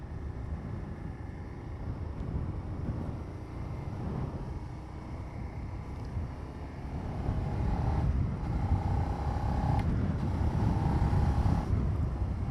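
Suzuki SV650X motorcycle engine running steadily under a constant low rumble, growing louder and rising in pitch through several gear changes in the second half, with no one talking.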